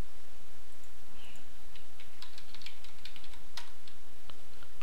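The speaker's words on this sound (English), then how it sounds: "let me type in my password" Password being typed on a computer keyboard, a quick run of light key clicks in the second half over a steady low hum, close and fairly clear with no talking.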